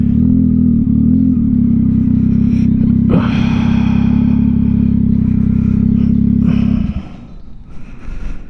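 A 2022 Yamaha XSR900 fitted with a Kelpi Custom Moto shorty exhaust idles with a loud, deep, throbbing rumble, blips a sharp rev at about three seconds, then cuts off near the end, leaving faint background noise.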